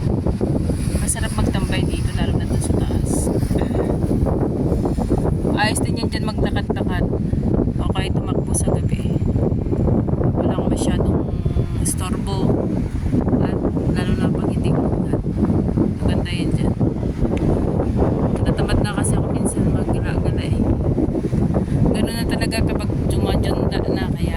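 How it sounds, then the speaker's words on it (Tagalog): Steady, roaring wind buffets the microphone on a nighttime walk near a riverside, a constant broadband rush with no breaks, loud and close. "guys kapag kayong ganito na mahangin"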